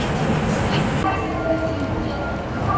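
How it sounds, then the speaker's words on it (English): Inside a moving passenger train, a loud, steady rumble of the carriage fills the space, with no clear words spoken. "We're on train."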